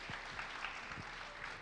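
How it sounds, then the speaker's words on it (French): Faint, distant applause from an audience at a school pleading competition final in Compiègne, a soft continuous patter of clapping under low background noise. "Oui, l'applaudir."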